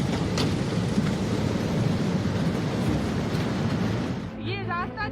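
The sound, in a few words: heavy rain in the mountains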